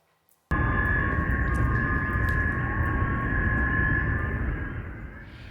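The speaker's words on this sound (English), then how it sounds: "That is the sound of air raid sirens" Air raid sirens wail over Kyiv during missile strikes on Victory Day, a loud sustained tone that starts abruptly and holds steady before slowly fading, with no voices.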